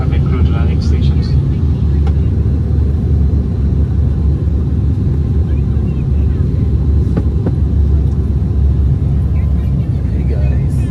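A passenger airplane comes in to land, heard from inside the cabin as a loud, constant low engine and airflow rumble that fills the whole stretch without pause.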